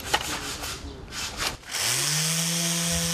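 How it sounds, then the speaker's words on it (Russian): A sanding machine works on the facade of a three-storey apartment building; rough rubbing and scraping give way to a high whine that spins up and holds steady, loud and close. "Покой местных жителей визг шлифовальной машинки долго тревожить не будет."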